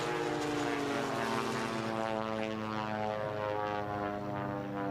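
Propeller race airplanes drone steadily past at an air race in Roswell, New Mexico, a continuous rough engine hum at moderate distance with no talk over it.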